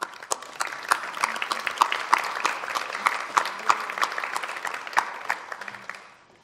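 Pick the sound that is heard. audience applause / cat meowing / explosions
audience applause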